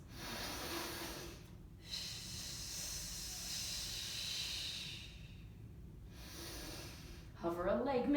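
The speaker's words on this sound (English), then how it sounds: "5 more breaths" Deep breaths during a core training exercise come as long, close, hissing exhales separated by quiet pauses, with a voice starting up near the end.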